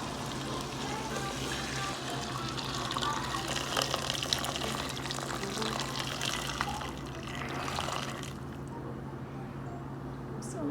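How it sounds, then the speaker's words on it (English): Hot water pours in a continuous, splashing rush into a pot of Guyanese pepper pot stew, fairly close, then cuts off near the end. "let me add in my hot water"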